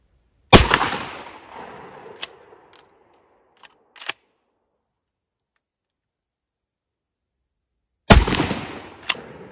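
A 20 gauge shotgun fires 1 ounce socket slugs at an outdoor range: one sharp, booming blast echoes away, then come scattered metallic clicks of the action, a long silence, and a second heavy shot near the end.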